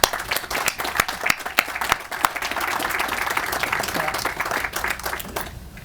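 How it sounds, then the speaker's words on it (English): A crowd at an outdoor groundbreaking ceremony for a levee setback claps steadily, a dense, sustained round of applause with sharper individual claps at the start before it trails off near the end. "I would like to recognize her and give her a round of applause for making this possible."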